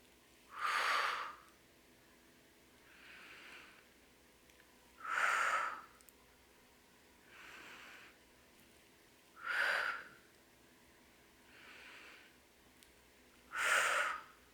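Slow rhythmic breathing during a seated spine twist exercise, four soft whooshing exhales at steady intervals with fainter inhales between, close and quiet, no talking.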